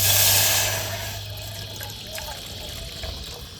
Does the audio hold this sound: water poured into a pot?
yes